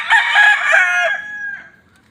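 A rooster at a chicken farm lets out a single loud, close crow, a drawn-out cock-a-doodle-doo that trails off near the end.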